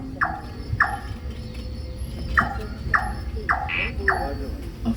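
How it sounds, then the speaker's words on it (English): Nightjar song at night in a Singapore night safari forest, a series of short repeated calls at regular intervals, moderately near, over a low background hum of the night setting. "A nightjar song"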